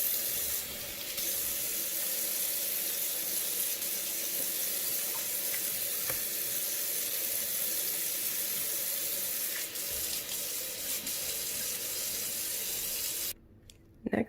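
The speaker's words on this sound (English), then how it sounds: "I'm going to sterilize my sinks and all my surfaces and wash those all down" Tap water runs steadily into a kitchen sink while sinks and surfaces are washed down, making a continuous hiss that cuts off near the end with a brief clatter.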